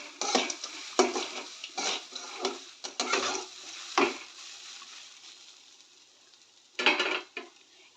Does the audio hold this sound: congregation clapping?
no